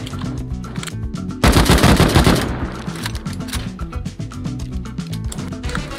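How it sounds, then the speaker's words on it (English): In the survival game Rust, a shotgun trap fires amid ongoing gunfire: rapid shots crack out, then one loud, dense blast erupts and fades into further scattered fire. "Shotgun trap! Shotgun trap!"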